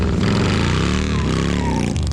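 Motorcycle engine roaring steadily through a burnout, a loud close revving drone with dense rumbling harmonics and a slight pitch dip midway, staying continuous for the whole stretch.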